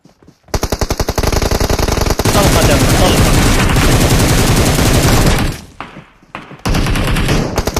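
Rapid bursts of automatic gunfire from a video game, loud and nearly continuous, with a brief pause before the shooting resumes.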